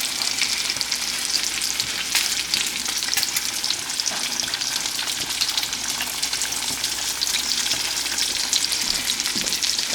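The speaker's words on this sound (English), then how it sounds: "the fries is over here frying right now" Continuous crackling sizzle of fries frying in hot oil, steady and close, with small popping bursts and no talking.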